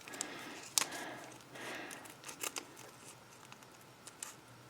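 Scissors snip through a Cricut vinyl decal for a cardinal snow globe ornament, a few quiet, close, irregular cuts with soft rustling between them.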